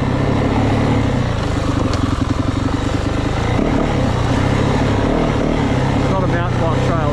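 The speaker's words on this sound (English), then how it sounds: "riding this mountain bike trail on the dirt bike" A 2024 Yamaha WR450F dirt bike riding a trail, its engine buzzing loud and close with throttle changes, under a voice talking.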